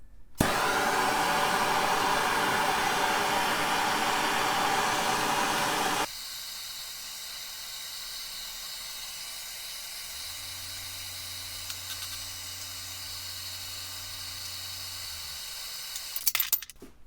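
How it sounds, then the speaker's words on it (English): A MAP gas torch with a trigger heats a KX250 suspension linkage bearing, giving a loud, steady roaring hiss close by that then drops to a quieter hiss, with a low hum joining partway. "So this is MAP gas. I love this torch with the trigger."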